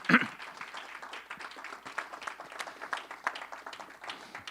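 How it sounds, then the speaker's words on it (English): Steady applause from an audience, many hands clapping continuously at moderate loudness with no voices on top. "Let's give them another warm round of applause."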